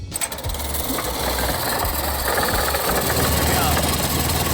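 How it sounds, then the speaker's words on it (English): A small custom go-kart engine propped on a box sputters up and revs with a rough, choppy pulse, loud and close, while a voice talks over it. "we're just gonna rev it up and see how loud it is"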